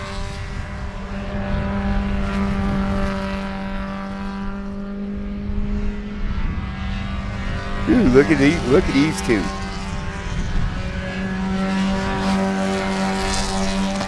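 Race cars circling the track at Sebring during the Love Bug Dash, engines droning steadily with a sharper passing surge midway as two cars run close together, while someone talks over the noise.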